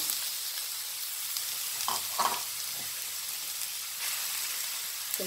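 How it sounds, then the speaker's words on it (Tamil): Squeezed grated white pumpkin is stirred in a hot pan for halwa, a soft steady sizzle with a few short scraping strokes of the spoon, fairly faint and without talk. "பேனில் சேர்த்தாச்சு. சேர்த்து நல்லா கிண்டி விட்டுருவோம்."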